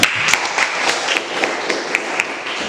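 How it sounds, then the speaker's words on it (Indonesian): A small group in a classroom claps together, producing a light patter of applause with several distinct, evenly spaced louder claps standing out, moderately loud and close. "Tepuk tangan untuk kita semua."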